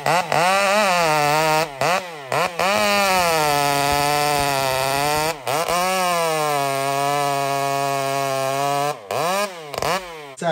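A Husqvarna 572 XPG chainsaw fitted with an upside-down ram horn muffler runs loud and close, holding a steady high whine with several brief drops and rises in revs.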